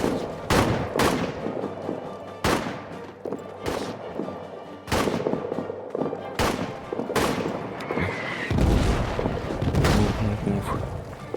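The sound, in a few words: artillery fire in video game All Quiet in the Trenches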